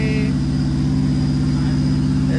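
A freshly rebuilt Subaru car engine idles steadily in a loud, close, continuous low rumble with an even pulsing rhythm, and no voices over it.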